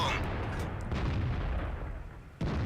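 A Super Pershing fires its tank cannon in World of Tanks, a heavy, booming shot with a long rumbling decay, then another sharp, loud blast near the end.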